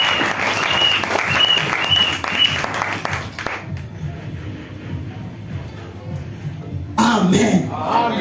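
A church congregation applauds in loud, dense bursts during a Sunday service, first for several seconds, then falling away under a preacher's voice before a second swell of clapping returns near the end.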